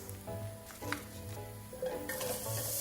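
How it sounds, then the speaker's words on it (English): Onions tipped into a hot pan for a vegan miso soup, stirred with clinking and scraping, the sizzle swelling louder near the end, close up and with no voices. "So onions going in."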